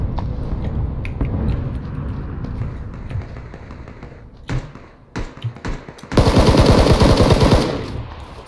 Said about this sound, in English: Are you getting shot at, bud?